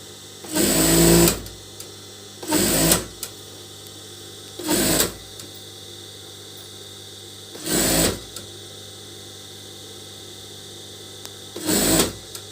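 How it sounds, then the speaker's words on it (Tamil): A sewing machine stitching a neckline on a top in five short bursts of whirring, each about a second long, separated by quiet pauses of a few seconds. The machine is near, with a low hum between the runs. "இப்போ நம்ம அது மேலேயே வந்து டாப்பில் வந்து நம்ம அதுக்கேற்ற மாதிரி ஸ்டிச் பண்ணுறோம்"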